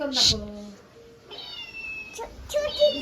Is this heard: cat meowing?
yes